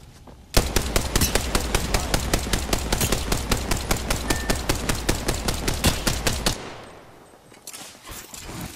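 Rapid automatic gunfire from an Apex Legends firefight rattles off in a steady, loud burst lasting about six seconds, then cuts out abruptly into a softer trailing rumble and ambient noise.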